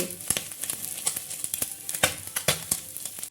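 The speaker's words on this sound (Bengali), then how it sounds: "আমি তিন চামচ সর্ষের তেলকে ভালো করে গরম করে নিয়ে মাছগুলোকে ভেজে নিচ্ছি" Small mourala fish fry in hot mustard oil in a steel kadai, making close, fairly quiet sizzling broken by scattered sharp crackles and spattering pops.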